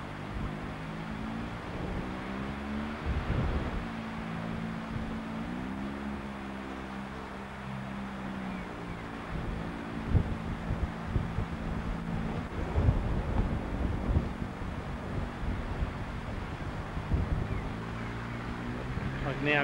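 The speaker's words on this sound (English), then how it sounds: "The wind." Steady wind rush buffets the microphone during an open-cockpit flight in a turbo Subaru EA81-powered gyrocopter from a farm airstrip at Gunning, NSW, with a droning engine tone beneath and someone talking over it.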